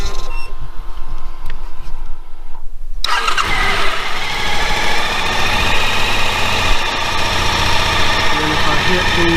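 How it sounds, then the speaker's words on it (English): A motorcycle engine fitted with heated grips starts after about three seconds of quiet, then settles into a steady, loud idle that runs to the end. "Go ahead and turn the bike on."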